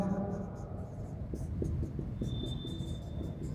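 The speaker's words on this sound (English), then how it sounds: "So I will write here" Chalk or marker scratches out a short series of quick strokes on a board in a chemistry lecture, faint and close under a low room hum, with someone speaking.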